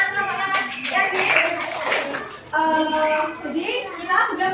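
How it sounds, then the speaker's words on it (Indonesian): Students in a classroom clap for a group after a discussion, a short burst of applause mixed with a teacher's voice and children talking over and between the claps. "yuk beri tepuk tangan kelompoknya Mas Yazid"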